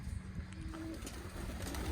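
Pigeons coo softly in a container coop, low throaty calls rising over a dull rumbling background, close and moderately quiet.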